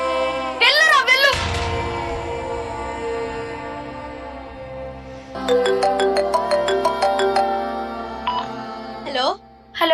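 A mobile phone ringtone plays in loud melodic bursts, with a rising trill early on and then a repeating tonal pattern of bright notes, over steady background hum and faint voices.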